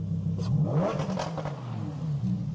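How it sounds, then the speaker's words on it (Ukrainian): A Lamborghini Huracan EVO with a V10 engine sits in neutral and is revved, its engine note climbing and falling in quick, loud pulses close by. "всі можеш погазувати. Вона в нейтралі."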